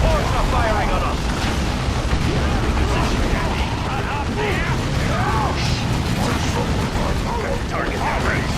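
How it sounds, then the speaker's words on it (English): Ork gunfire in Dawn of War 2, a dense, continuous roar of weapons and mechanical clatter filling the battlefield, with shouted voices calling out over the din. "Orcs are firing on us!"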